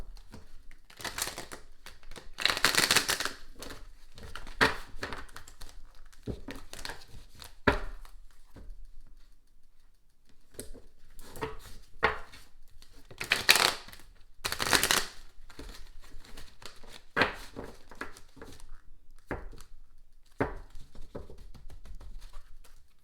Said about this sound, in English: Let me shuffle first.